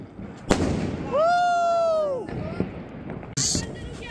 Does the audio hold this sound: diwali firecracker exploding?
yes